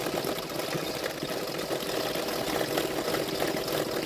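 A sewing machine stitches blouse lining fabric with a steady, fast, close mechanical whir that keeps going with no pauses, with no talk.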